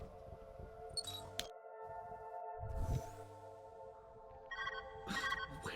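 A telephone rings in the puzzle game Viewfinder, a steady electronic ringing tone held under soft game ambience, with small shuffling noises and no talk.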